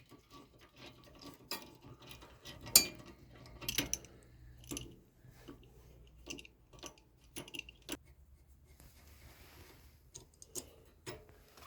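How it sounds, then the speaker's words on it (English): Metal spanner and tools clicking and ticking against a rear brake caliper nut on a Skoda, SEAT or VW, with scattered close, sharp taps and ratchet-like clicks over a quiet background. "So we use 15 millimeter spanner to counter hold."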